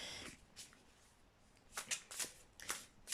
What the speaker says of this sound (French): j'ai pris l'habitude de changer de sens pour battre les cartes